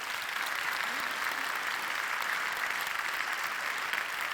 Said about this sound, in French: tout le monde va vous applaudir bien fort